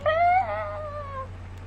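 A baby kitten gives a single clear meow, rising then sliding down and trailing off, close and alone over a low steady hum.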